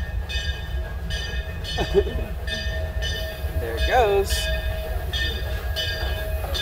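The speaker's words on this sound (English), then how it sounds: "stand by for train." Train at the Silver Dollar City theme park in Branson, Missouri, rumbling steadily past with a ringing bell and a couple of short whistle blasts, while people talk nearby.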